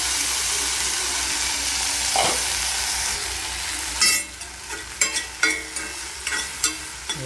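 Okra steaming and cooking in a pan, a steady sizzling hiss with occasional stirring scrapes and clinks near the end, no talking.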